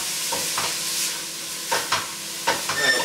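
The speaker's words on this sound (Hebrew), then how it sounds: "ואני מערבב ומטגן עד שהבצל נעשה שקוף." Onion is stirred and fried in a pan for Italian tomato soup, a quiet sizzle broken by several distinct scraping strokes of a utensil, the last few louder and closer together.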